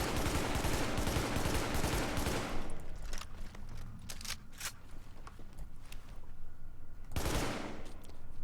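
Rapid FAL assault rifle fire in The Division, a dense loud burst of shots for nearly three seconds, then sparse scattered reports and one more short burst near the end.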